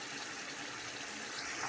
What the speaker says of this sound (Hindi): अब हम इसमें डालेंगे 4 गिलास पानी के, इन्हें गलने के लिए।